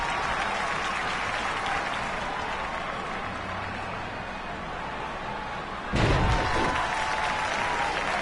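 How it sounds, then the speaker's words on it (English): A virtual wrestling arena crowd in WWE 2K20 applauds continuously as a steady wash of clapping, with a sudden louder surge of cheering and clapping near the end. "right now we have this crowd just clapping for about everything that someone does in this match"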